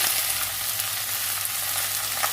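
Pieces of pointed gourd fry in oil in a pan, giving a steady, loud, close hiss and sizzle that runs unbroken throughout, with faint stirring and no talking.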